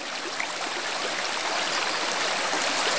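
A rural stream flows steadily and close by, a dense, continuous rush of water with no breaks and no voices over it.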